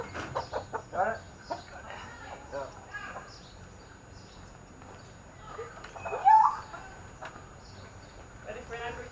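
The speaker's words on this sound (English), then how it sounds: "Ready for an angry chicken, James?" Chicken clucking and squawking outdoors, brief agitated calls rising over handling noise while people talk nearby.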